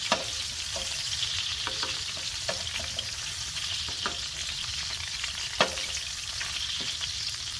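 Grease sizzles and spits in a pan on a camp stove during winter camping in Canadian cold, a steady close frying hiss broken by a few sharp pops and stirring scrapes.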